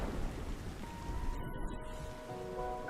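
Steady rain hisses and low thunder rumbles in the Thunder Plains area of the video game Final Fantasy X-2, forming a dense, continuous bed, and a faint tone rises near the end.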